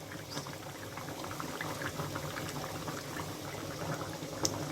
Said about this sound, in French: je vais pouvoir mettre les carottes et laisser mijoter 5 bonnes minutes